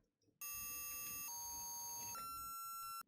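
Electronic chiptune-style music from a Yume Nikki fan game, with bright sustained beeping synth tones that shift pitch in three steps before ending abruptly; loud and alone, with no voices.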